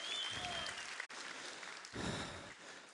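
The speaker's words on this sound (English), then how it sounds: "Can we give a huge round of applause to Lisa?" A seminar audience breaks into applause, a broad, continuous clatter of many hands heard from a distance in a large room, with a brief dropout midway.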